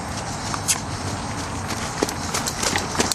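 Roscoe, a rescue horse being retrained, walks during a first ride, his hooves clip-clopping in a soft, uneven rhythm with light scattered impacts over steady outdoor background noise.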